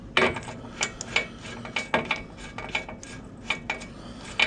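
A ratchet undoing the 36 mm swing arm nut on a Toyota Land Cruiser 105 series, crisp metallic clicks in quick uneven bursts, close and clear against a quiet background.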